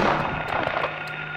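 Shotgun fire in the Silent Hill video game: a few dull booming shots over a continuous droning game soundtrack, moderately loud, with no talking.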